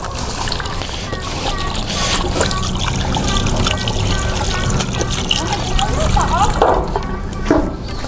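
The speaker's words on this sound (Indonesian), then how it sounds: "cuci tangan dulu. Cuci tangan guys." Water runs from a tap as hands are washed at the Ambarawa railway museum in Central Java, a steady trickle and splash heard up close beneath people talking nearby.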